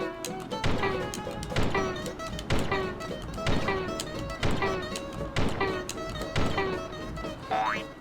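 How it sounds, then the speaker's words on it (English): Repeated cannon jumps in the PSP game Truth or Square, a steady run of bouncy boing-like launches about every second over busy game music, with a rising tone near the end. "do a series of cannon jumps over to the boss room, and it'll look like this"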